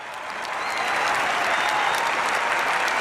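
Crowd applause for Trump at an event, many hands clapping together in a thick, continuous roar that builds over the first second and stays loud.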